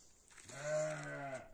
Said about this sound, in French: Les moutons sont dehors avec les chiens.